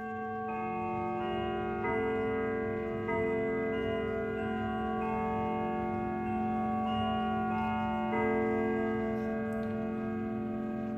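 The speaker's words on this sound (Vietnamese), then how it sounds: "Bây giờ là em sẽ điểm chuông chiếc đồng hồ cây này." A Howard Miller 610-999 grandfather clock chimes, its sustained bell tones layered and ringing out across a long stretch, with a new chord struck partway through and a soft ticking beneath, close and steady.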